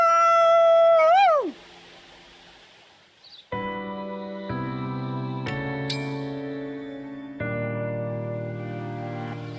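A voice in Fire Emblem Engage imitates a wolf howl with a brief wavering, rising-then-falling cry, followed by a pause and then sustained game music chords.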